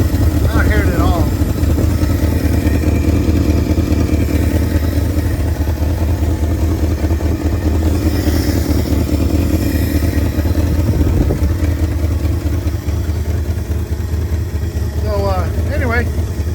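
A 1971 Ford F250 truck engine runs steadily at idle, a loud continuous rumble close by, with people talking briefly over it.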